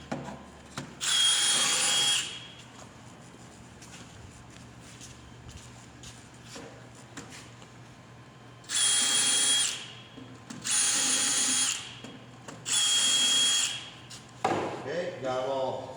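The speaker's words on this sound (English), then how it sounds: "got them all drilled" A power drill bores screw holes in a single-door base cabinet in four loud, whining bursts, one near the start and three more closely spaced later, with quieter handling and shuffling sounds between them.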